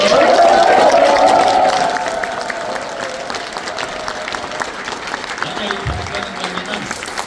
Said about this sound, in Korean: 다시 한번 뜨거운 박수 한번